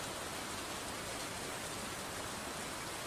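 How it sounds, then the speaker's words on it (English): Steady rain hisses evenly and softly as background filler, a continuous wash of falling drops without change or talk. "I only use the rain sound to substitute the music."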